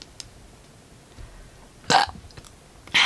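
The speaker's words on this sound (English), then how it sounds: "not as good as the burps that I did when I wasn't recording" Two loud, close burps rip out about a second apart, each short and throaty, after a stretch of quiet room tone with a few faint clicks.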